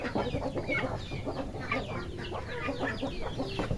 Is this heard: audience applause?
no